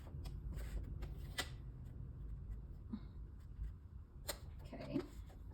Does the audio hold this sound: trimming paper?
yes